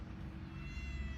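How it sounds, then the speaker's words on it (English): A cat meowing outdoors by a garden railway, one drawn-out meow heard close over a steady low background hum. "I think our cat just turned up."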